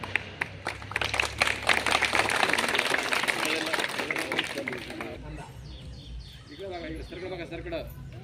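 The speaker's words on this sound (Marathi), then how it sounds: "टाळ्या" Applause from a school audience at a children's assembly in a Zilla Parishad primary school in Bachegaon: several seconds of dense, close clapping that fades out as a voice begins speaking or singing.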